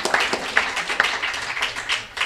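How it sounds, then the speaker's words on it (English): A small audience at a community gathering with Takoma Park city council members claps in scattered, fairly quiet bursts for the whole stretch. "Let's give them a round of applause for being here."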